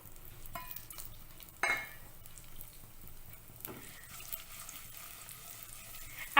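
Fennel, sesame, star anise, a small cinnamon piece and dried red chillies fry in hot ghee with a low steady sizzle, a sharp crackle as they hit the fat, and occasional spoon scrapes against the pan.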